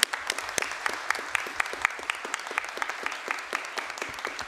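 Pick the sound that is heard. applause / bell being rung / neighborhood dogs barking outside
applause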